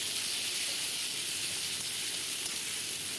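Chopped tomato hits a hot oiled pan with bay leaves for an egg curry, giving a steady, continuous bright sizzle and hiss that stays even throughout, with no voices.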